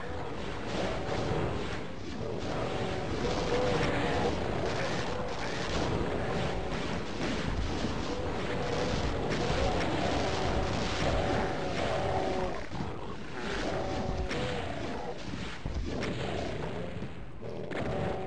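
Rocket explosions rumble in Doom, with continuous layered booms and blasts that stay fairly far and muffled under a dense, noisy game soundscape.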